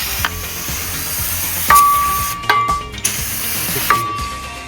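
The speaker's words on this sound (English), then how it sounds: "And then this time I'll spray it." Spray bursts onto an old HVAC part pulled from a vintage bus: several short hissing sprays with clicks and handling noises between them, close and fairly loud.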